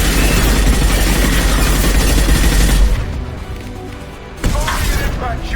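Gunfire in the video game Mass Effect 2, a dense loud wash of shots and blasts that drops away briefly, then resumes with a sharp impact, with some speech mixed in.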